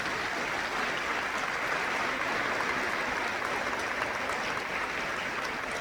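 An audience applauds a music duo with steady, dense clapping that holds at an even, full level throughout, no voices rising above it.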